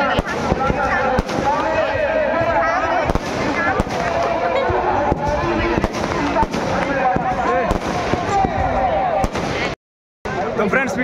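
Fireworks and firecrackers burst during a Ravan Dahan festival at Pratappur in 2024. Sharp cracks and pops pile up densely over a constant crowd roar, with a brief silent dropout near the end.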